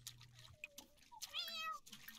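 A cat in The Sims 4 gives a couple of short, clear meows, quiet and close, with a faint trickle of water in the background.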